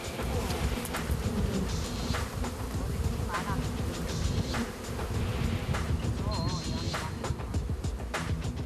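A dense swarm of honeybees drones continuously around beehives, a thick buzzing hum that stays loud throughout, with faint voices in the background.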